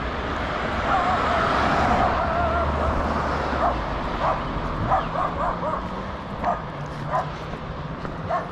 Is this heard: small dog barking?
yes